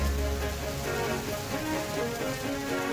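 Steady rain patters densely on a surface, a constant wash of drops with a low rumble underneath, no voices.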